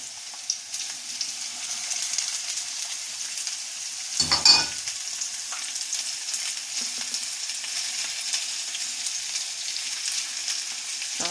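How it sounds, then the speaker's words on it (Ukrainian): Thin potato slices frying in a pan give a steady fine crackle and sizzle throughout, with one brief louder clatter midway, heard close with no talking. "Закладаю картоплю. Вот а з картоплі вже починає тріщати."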